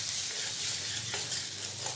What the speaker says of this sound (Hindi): और इसे भी थोड़ा सा भून लेंगे हम।